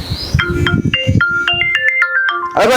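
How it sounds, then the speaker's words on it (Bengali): A mobile phone ringtone plays a short, bright electronic melody of quick stepped notes, loud and close, alone for about three seconds. "ভাবি আবার ফোন দিয়েছে গা।"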